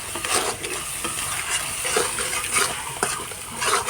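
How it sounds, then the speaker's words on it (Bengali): Turmeric and Kashmiri chilli powder masala is stirred in a pan over low heat, with continuous soft sizzling, scraping and rhythmic spoon strokes close up and no voices. "তো এগুলোকে ভালো করে এখন মিক্স করে নেব।"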